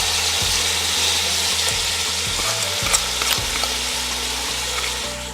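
Chopped onion for Bolognese sauce sizzling in a hot pan, a dense, even crackling hiss with a low hum underneath and occasional soft stirring knocks, close up and steady throughout, no talking.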